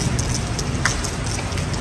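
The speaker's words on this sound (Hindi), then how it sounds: "बारिश तो भाई अपने ज़ोरों शोरों से स्टार्ट हो गई है" Heavy rain pouring onto a street at night in Lisbon, a dense continuous hiss of drops hitting pavement, steady and close with no voices.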